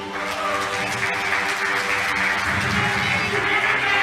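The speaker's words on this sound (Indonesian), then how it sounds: "Kita berikan tepuk tangan sekali lagi." Audience applause at the second public debate of the 2024 Banggai Regency regional election, a steady, dense wash of clapping from a large crowd that holds at an even level throughout, with a faint murmur underneath.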